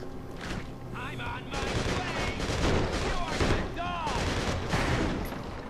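Magnum revolver shots ring out in a gunfight in the Urban Chaos Riot Response video game, sharp repeated reports mixed with other gunfire and game noise, fairly loud throughout.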